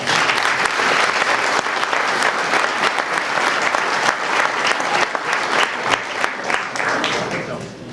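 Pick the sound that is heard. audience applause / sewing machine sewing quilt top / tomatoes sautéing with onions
audience applause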